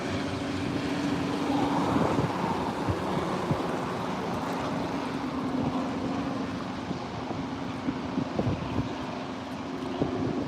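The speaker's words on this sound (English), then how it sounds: "They called out the police helicopters." A police helicopter flies overhead, a continuous broadband rumble and rotor drone mixed with wind noise, steady and fairly distant, with no talking.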